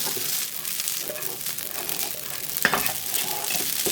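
Cumin spaghetti frying in a pan, a steady close sizzle with occasional scraping stirs and a brief louder clatter partway through, no talk.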